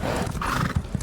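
Horses in a video game whinny and neigh over a quick clatter of hooves, brief and fairly close, with no talk.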